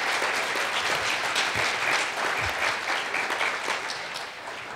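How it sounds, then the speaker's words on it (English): An audience at a moderated architecture talk claps in sustained, dense applause that holds steady and then slowly tapers off near the end, with no voices standing out. "So let's have an applause for"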